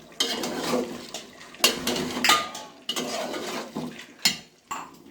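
A pot of meat with potatoes being stirred on the stove, with close, irregular metallic scraping and clanking of a spoon against the pot in several bursts.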